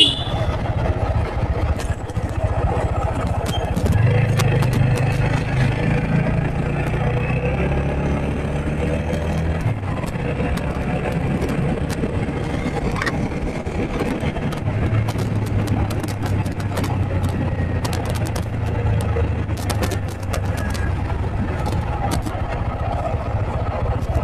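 Motorcycle engine on a North Bengal road trip, droning steadily and fairly loud throughout with low rumble and some wind noise, pitch shifting as the bike is ridden fast.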